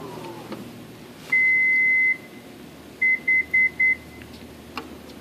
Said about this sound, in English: You can hear it beep 4 times.